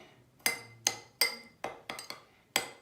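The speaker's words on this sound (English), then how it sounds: "if you have big chunks like this, you want to crush it" Borax slime mixture being crushed with a utensil, heard as seven sharp clinks and taps against a bowl at uneven intervals, fairly close and moderately loud, with no talking.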